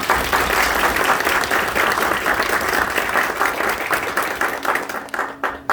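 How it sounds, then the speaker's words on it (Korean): A Korean university audience applauds a retiring professor at a farewell lecture, with sustained, dense clapping from a large crowd that holds steady and then tapers off at the end. "교수님께 박수 한번 부탁드립니다."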